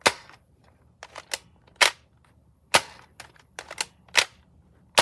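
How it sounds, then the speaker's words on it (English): A Herisona M4A1 gel blaster fires in single shots, about a dozen sharp, loud snapping cracks at irregular intervals, some in quick pairs, each followed by a brief mechanical rattle, with no talking. "okay, now we're going to fire the gun."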